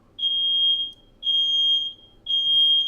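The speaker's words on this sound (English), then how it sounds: "did you just set off a fire alarm?" Household smoke alarm shrieking in three long, loud, steady high-pitched beeps separated by short gaps, close by and with no voices over it.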